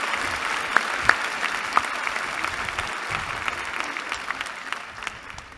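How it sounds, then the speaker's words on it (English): An audience applauds steadily for several seconds at a university commencement ceremony, dense clapping from many hands that gradually fades toward the end. "Please join me in recognizing their hard work and dedication with a round of applause."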